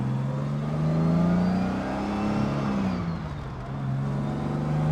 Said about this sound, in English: really smooth gearbox, really smooth engine, and a fast car.